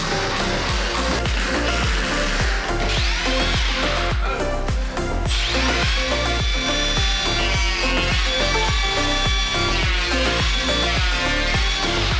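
A cordless Makita planer cutting wood in a carpentry workshop, with repeated short bursts of whirring and shaving in a steady rhythm, loud and close, the motor whine rising in pitch with each pass.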